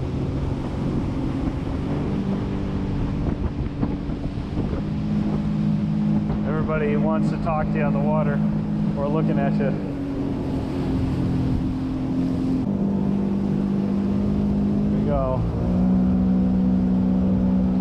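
A Sea-Doo Switch pontoon boat runs at speed on a lake, its outboard engine droning steadily and shifting pitch under wind buffeting, while someone talks over it.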